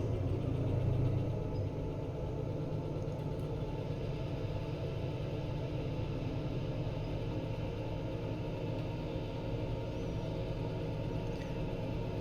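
A diesel locomotive engine in the train game Derail Valley labors steadily on a hill, a continuous deep rumbling drone with a slightly louder swell at the start.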